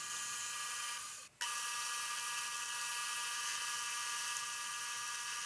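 A restored Atlas metal lathe roughs down the outside of a scrap brass piece, giving a steady high whine and hiss with a brief dip and break near the start, close and without speech.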